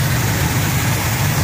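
A 1964 Buick Riviera engine with finned aluminum valve covers runs steadily, a loud, close, continuous low idle rumble with no talk.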